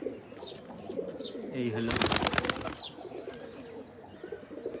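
Giribaz pigeons cooing close by in soft repeated calls, mixed with other bird chirps, while someone talks over them.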